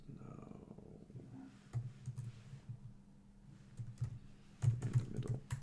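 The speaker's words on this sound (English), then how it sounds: "I'm just typing this over" Keys on a computer keyboard are typed in uneven bursts of soft clicks and taps, close by, with quiet gaps between flurries and no one speaking.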